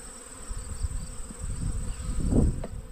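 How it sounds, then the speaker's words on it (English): Honeybees from two combined swarms hum in a dense, steady buzz at a hive being inspected, with a louder close pass near the end and no voices. "A lot of bees there."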